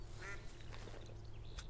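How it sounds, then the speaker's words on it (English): Ducks quack outdoors, a few short nasal calls scattered across a brief stretch over a low steady background rumble, moderately distant and alone without talk. "Somebody's quacking."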